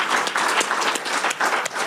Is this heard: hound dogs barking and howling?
no